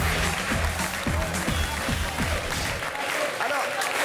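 A French TV studio audience applauds, a dense steady wash of clapping with cheering voices mixed in, somewhat distant and moderately quiet throughout.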